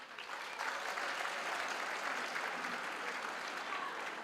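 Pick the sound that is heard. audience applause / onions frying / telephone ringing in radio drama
audience applause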